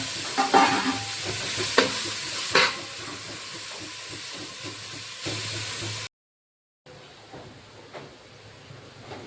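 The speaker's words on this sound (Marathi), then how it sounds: "बीट आता सगळं एकजीव करून घ्यायचं आहे" Stirring and scraping beetroot in a pan with a steady sizzle underneath, a few sharper clinks of the spoon, a brief gap, then quieter sizzling resumes.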